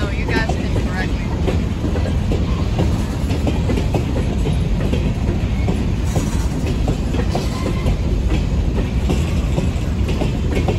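A CSX freight train rolls past close by, its wheels drumming a steady, loud clickety-clack rumble on the rails that carries on without a break.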